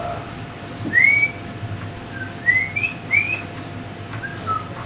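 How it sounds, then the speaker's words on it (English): A person whistles a few short rising and sliding notes over a quiet background hum, with pauses between phrases. "I'm pretty good at whistling."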